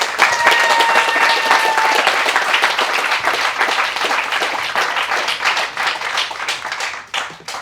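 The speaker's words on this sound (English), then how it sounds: "Let's give him a round of applause." An audience at an education festival award event breaks into sustained applause, dense clapping that holds for several seconds before thinning out at the end.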